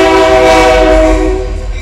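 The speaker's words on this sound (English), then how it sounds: "Trains come through here all the time." A train passes close by a tiny house community, its horn blaring loud and steady with a deep rumble underneath for the whole stretch, slowly easing off near the end.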